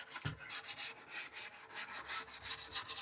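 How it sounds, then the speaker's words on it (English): Short strokes of a sanding block rubbing wood edges, rasping back and forth in a quick, uneven rhythm, close and fairly quiet. "Now I'll just break the edges just a little bit using this sanding block"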